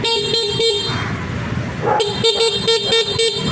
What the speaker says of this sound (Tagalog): Okay, yung lakas ng kanyang busina.